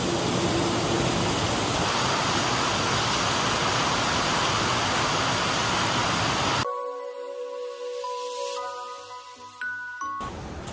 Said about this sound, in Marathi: आणि मजबूत असा पाऊस आहे बाजू.